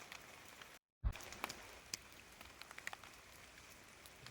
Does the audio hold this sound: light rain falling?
yes